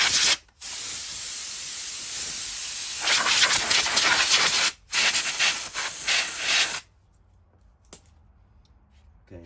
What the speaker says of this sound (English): I just use the air compressor to blow the dirt away.